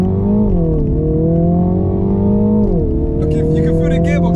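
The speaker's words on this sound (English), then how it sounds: "now going to launch the car" A 2021 Mini Countryman JCW 306 launches hard, its engine note climbing loudly and steadily, dipping briefly at a gear change, then pulling on strongly from close inside the car.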